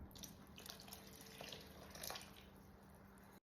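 Tap water running into a pot for a sausage casserole, a soft steady splashing stream with a low hum beneath, faint and continuous before stopping abruptly at the end.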